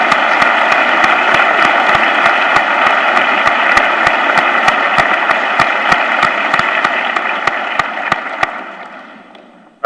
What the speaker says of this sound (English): applause by the few Giant fans left who have nothing else to clap about